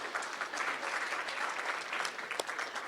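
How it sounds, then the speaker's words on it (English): Audience clapping at a hall of fame induction ceremony, a steady, moderately loud wash of many hands continuing without pause through the short stretch. "we can clap, yes."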